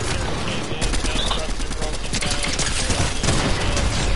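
In a shooter video game, an MK rifle fires in rapid, continuous bursts of dense, close, loud shots that run the whole stretch, with a voice talking over the gunfire.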